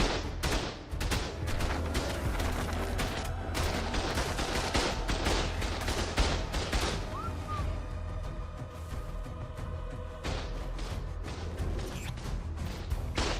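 Automated turrets in the game Ark firing during a base defence, a dense, continuous barrage of rapid gunshots layered over low battle rumble, loud and sustained throughout.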